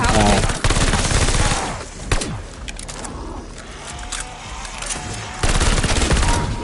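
Rapid automatic gunfire from a weapon in a first-person video game, loud bursts at the start and end with quieter shots and game effects between.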